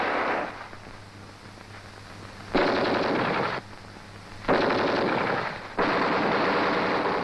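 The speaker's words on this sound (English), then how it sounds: "A little further on, an enemy machine gun holds up the riflemen." Enemy machine gun fire in a wartime troop tactics film, several sustained loud bursts of rapid shots separated by short gaps over a constant low rumble.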